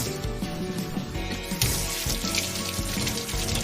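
Tap water pours steadily into a sink during handwashing, a close, continuous splashing rush with small variations and no voices.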